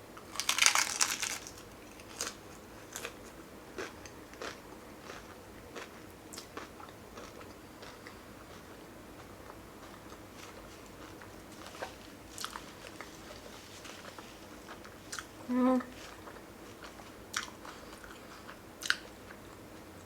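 Someone bites into a crunchy spicy cheddar taco shell filled with steak, with one loud opening crunch followed by steady close, quiet chewing and small crunches and no talk.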